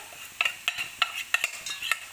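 Onions are stirred and fried in a pan for a banana stem curry. A spoon scrapes and taps against the pan in a quick, uneven rhythm over a faint sizzle, and no one talks.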